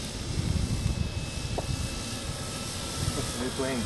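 A Precision Aerobatics Addiction XL RC aerobatic airplane flying slow and inverted in windy conditions, its electric motor a steady whine with gusty wind noise buffeting the microphone throughout.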